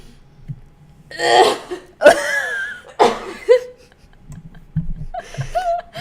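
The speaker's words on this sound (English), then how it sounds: "but then I did actually cough" A few harsh coughs and throat-clearing bursts come close together, followed by a softer vocal sound near the end.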